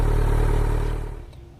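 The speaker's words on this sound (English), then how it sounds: "I am very happy with the GP-S1 slip-on exhaust for the Z900" A Kawasaki Z900 motorcycle fitted with a Pro Race GP-S1 slip-on exhaust revs hard and loud close by, then the engine note drops away and fades over the last half second.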